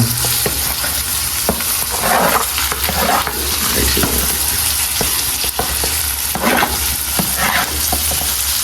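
Tomatoes and carrots fry in a hot pan while being stirred, a loud steady sizzle broken by repeated scraping strokes and clicks of the utensil against the pan.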